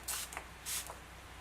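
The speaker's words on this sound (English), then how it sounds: "I'm just going to spray my brush so that I can get the most pigment out of my shadow" Two short hissing bursts of setting spray or fixing mist are sprayed onto a makeup brush, close and soft, with a brief pause between them.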